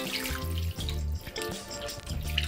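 Water poured into a braising pot of pork belly with sake and stock, a close splashing, trickling stream that briefly breaks off and resumes over a couple of seconds.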